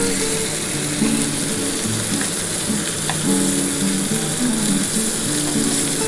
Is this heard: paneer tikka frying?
yes